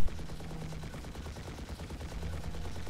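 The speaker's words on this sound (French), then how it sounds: "Qui tire comme ça, c'est des tireurs, je pense." Gunfire in Crysis 2 multiplayer, a muffled, fairly faint stream of rapid shots rattling steadily in the background with a low hum underneath.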